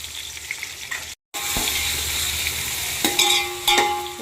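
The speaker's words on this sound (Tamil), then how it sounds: "பட்டை, ஏலக்காய், கிராம்பு போட்டுட்டு 400 கிராம் பெரிய வெங்காயம் போட்டுக்கலாம்." Onions frying in oil in a pan with cinnamon, cardamom and cloves for Chennai-style beef biryani, a steady close sizzle with stirring scrapes, a brief dropout and a few sharp clinks near the end.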